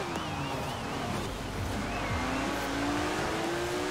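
A Porsche GT3 RS engine in the racing video game Forza Horizon 4, a sustained engine drone with rising and falling pitch as it revs and shifts, plus faint tire noise, steady and moderately loud.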